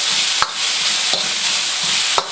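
Beef stir-frying in a hot wok gives a steady, loud broadband sizzle, broken by three sharp metallic clanks of the utensil against the pan at roughly even intervals, with no voices.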